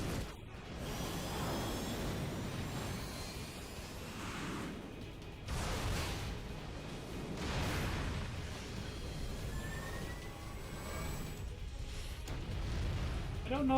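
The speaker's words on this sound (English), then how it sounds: "Maybe not a nuke, but that is a lot of missiles." Barrage of missile explosions in Final Fantasy X, repeated booms and whooshing bursts rolling over several seconds, with people talking over the blasts.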